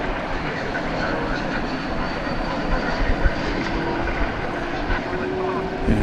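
Airbus A321 airliner at DFW Airport at night, a steady engine rumble with a faint whine, with people talking at times.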